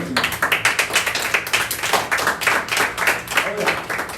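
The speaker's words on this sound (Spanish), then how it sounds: "Un aplauso al Señor." A church congregation claps in praise to the Lord, steady rhythmic clapping from many hands, moderately loud, with voices mixed in throughout.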